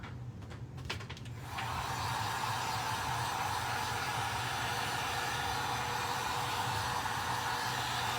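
A hair dryer blows on chalk paint coating a Dollar Tree pumpkin frame, starting with a few clicks and then settling into a steady, loud, even whoosh with a low motor hum that continues without pause.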